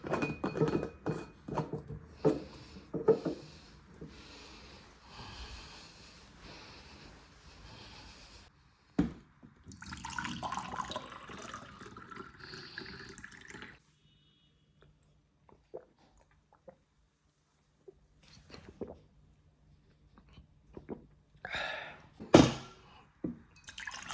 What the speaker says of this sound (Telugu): దీంట్లో వాటర్ నింపుకొని పెట్టుకుందాం